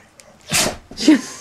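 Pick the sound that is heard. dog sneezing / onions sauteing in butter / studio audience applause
dog sneezing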